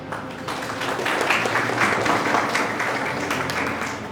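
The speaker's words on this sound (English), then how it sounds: "May we welcome them with a huge round of applause" A conference audience gives a steady round of applause welcoming a guest of honor, a dense, even wash of many hands clapping throughout at moderate loudness.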